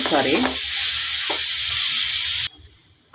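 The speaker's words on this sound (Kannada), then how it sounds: "ಈ ಎಣ್ಣೆಯೊಳಗೆ ಇದು ಬೇಯಬೇಕು, ಫ್ರೈ ಆಗಬೇಕು" Chopped spinach for a Rajasthani curry fries in oil with a close, bright sizzling hiss while being mixed. A short scrape comes early and the sound cuts off abruptly near the end.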